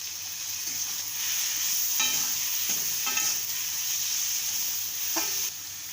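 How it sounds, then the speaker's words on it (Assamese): Masala with turmeric and salt sizzles steadily in a pan after water is poured in for a tomato fish curry, with a constant frying hiss and a few scraping stirs scattered through. "পানীটো ঢালি আছোঁ মছলাটো ভাজিবৰ কাৰণে"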